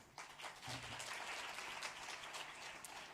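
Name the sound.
congregation applauding in church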